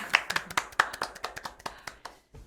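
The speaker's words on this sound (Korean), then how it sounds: "또 박수로 상쾌한 시작을 알립니다." A small group claps hands to open a Korean talk show, a run of sharp, close claps in a loose uneven rhythm that thins out toward the end, with no talk over it.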